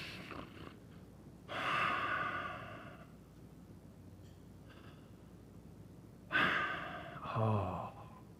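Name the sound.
voice imitating a sleeping child's heavy breathing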